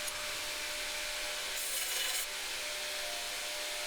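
A hand-forged knife blade made from an old file is rubbed flat along a dead-flat metal plate, giving a steady close-up scraping rasp with a brief brighter, harsher stroke in the middle, no voices.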